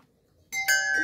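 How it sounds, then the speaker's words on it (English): An outdoor wind chime rings out after a quiet moment, a few bright metallic tones that strike loudly and then sustain and overlap as they decay. "I'm going to be buying quite a few more wind chimes. Here's one here."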